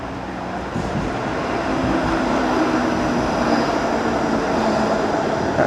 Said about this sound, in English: That's the 505 Dundas streetcar that'll be going all the way east of downtown into Riverdale.